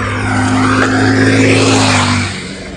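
A vehicle passes close by on a village road under construction, its engine rising loudly and then fading after a couple of seconds.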